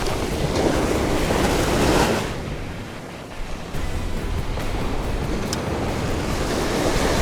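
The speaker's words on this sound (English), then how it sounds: "Big problem that we have is we're going against the wind." Strong wind blowing over the open sea while fishing from a boat, a loud continuous roar of gusts and wind buffeting with waves washing behind, briefly easing before picking up again.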